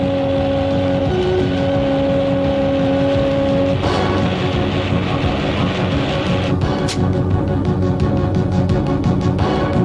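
A taxi driving fast, its engine roaring loud and steady throughout with a brief shift in pitch partway, and no talking.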